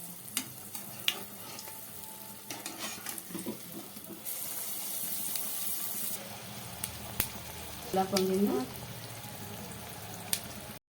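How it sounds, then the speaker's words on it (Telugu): Ariselu rice sweets drop into hot oil in a pan, giving a soft, fairly quiet sizzling hiss that swells for a couple of seconds amid faint kitchen clatter and a low voice. "ఆయిల్ హీట్ అయ్యాక మనం వత్తుకున్న అరిసెను వేసేసుకుందాం"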